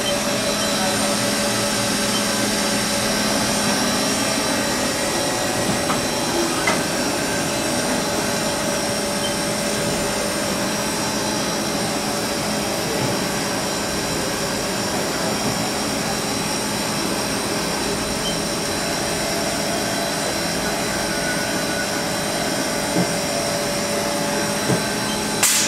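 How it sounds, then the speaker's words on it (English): Spindle of a 2007 Haas VF-3SS vertical machining center running at steady speed, a constant loud mechanical whine and hum with faint voices underneath, unchanging for the whole stretch. "Spindle running right now."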